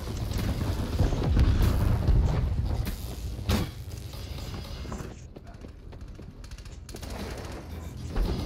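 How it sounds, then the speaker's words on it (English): A cluster grenade goes off in Call of Duty Black Ops 4 as a burst of heavy booms, followed by a further sharp blast and scattered gunfire, with voices talking over the action. "Watch out, cluster grenade"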